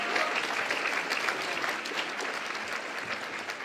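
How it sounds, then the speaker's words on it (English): An audience at a community event on trauma and healing claps in a sustained, dense round of applause that stays loud and even throughout, with a faint murmur of the crowd underneath. "Let's give them another round of applause."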